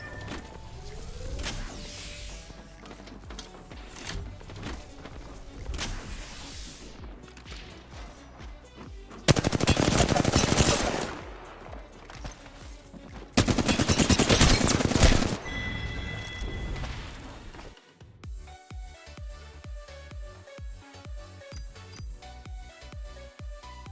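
Apex Legends gunfire in a hectic fight: bursts of rapid shots, with two long, loud sustained volleys of automatic fire in the middle. Game music and effects fill the rest.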